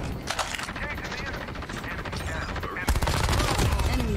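Gunfire from a shotgun in a battle royale shooter, dense rapid blasts layered through the whole stretch and swelling louder near the end, with a voice talking over part of it.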